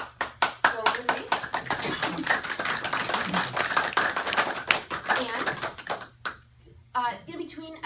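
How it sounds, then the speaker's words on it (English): A group claps hands together in a laughter yoga session, producing steady rapid clapping throughout, loud and close, with voices mingling, then a brief pause and scattered talk near the end. "Clapping."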